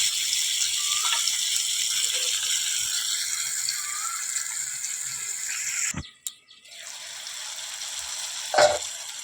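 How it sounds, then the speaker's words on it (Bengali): Tomato, green chili and onion fry in a pan with a bright, steady sizzle, then a sharp clatter cuts in partway through and the hiss resumes more quietly, followed by another brief knock. "এই সময় আমি টমেটো, কাঁচা লঙ্কা আর পেঁয়াজটা দিয়ে দেবো।"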